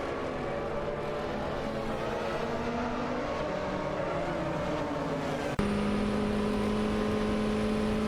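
Mazda 787B and Porsche 962C prototype race cars in a video game race, a steady loud engine drone with layered tonal whines that jumps in pitch and level near the end as a car closes in.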